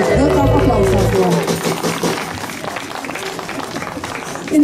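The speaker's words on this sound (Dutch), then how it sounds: "Heel graag applaus daarvoor." Audience applause for a choir: a short tonal voice-like sound opens, then a crowd claps in a steady, dense patter that slowly thins toward the end.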